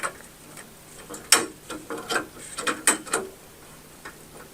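A fluorescent light tube is twisted a quarter turn in its tombstone socket, giving a series of close, small clicks, scrapes and ticks in uneven bursts against quiet.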